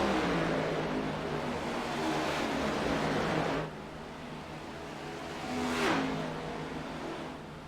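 Race cars in a racing video game set at Michigan roar steadily as they accelerate, a dense engine drone that drops briefly and then swells again with a passing car.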